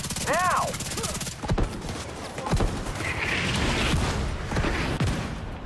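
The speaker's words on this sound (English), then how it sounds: "Dang, these mortars are crazy," Mortar rounds and heavy gunfire in a video game battle, a dense stretch of booming impacts and rapid shots with rumbling blasts at irregular intervals, and a brief shouted voice at the start.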